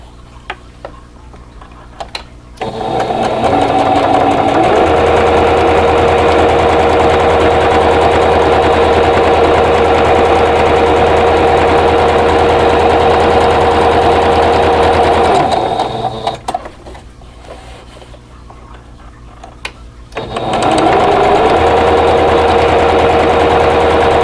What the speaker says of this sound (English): that's all the sewing we have to do